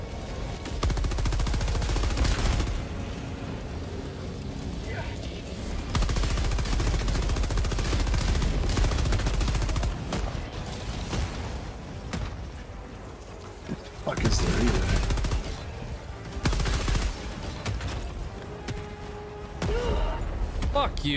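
A deployed sentry gun firing in Helldivers 2, near-continuous loud rattling bursts with brief gaps, under a person talking and game effects.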